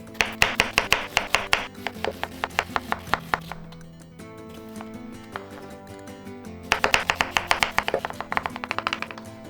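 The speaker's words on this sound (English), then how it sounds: "So I'm going to start with dicing up the onion." A knife dices an onion on a cutting board for a vegan cashew paella. Quick rhythmic bursts of close, crisp chops are separated by a short pause, with no talking.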